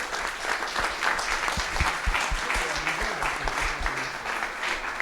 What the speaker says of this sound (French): je voudrais qu'on applaudisse très fort nos invités